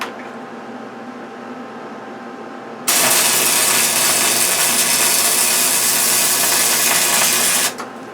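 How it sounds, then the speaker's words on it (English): Welding on a manual winch part clamped in a vise: a loud, steady crackling buzz starts abruptly, holds for about five seconds, then cuts off, with quiet background before and after. "So let's start welding it up good."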